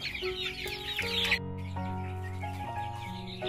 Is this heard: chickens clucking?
yes